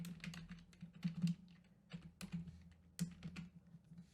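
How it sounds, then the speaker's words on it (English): Quiet typing on a computer keyboard: irregular soft key clicks in short bursts, with a low steady hum underneath. "I'm going to type on it"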